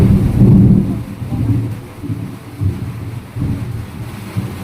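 Deep rolling thunder from an afternoon storm, close and heavy, rising and fading in several low rumbling waves over a few seconds with some wind noise.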